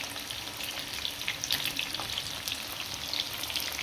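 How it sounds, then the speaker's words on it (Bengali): Two kinds of capsicum, onion and chicken fry in a pan for an Eid night meal, giving a steady, close sizzle with busy crackling throughout and no talk. "এটা ভাজা হচ্ছে।"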